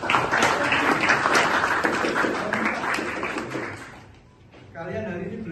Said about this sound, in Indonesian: Oke, dulu tepuk tangan.